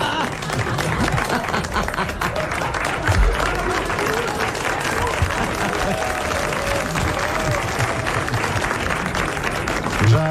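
Sustained studio audience applause fills the room at a French radio comedy panel show, dense steady clapping from a large crowd holding at full volume throughout.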